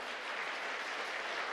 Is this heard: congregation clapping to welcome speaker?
yes